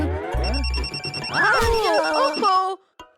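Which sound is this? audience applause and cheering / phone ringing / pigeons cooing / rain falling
phone ringing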